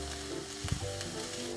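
White onion sautéing in a pan, a close steady sizzle with a brief louder stir or clatter midway, no voices.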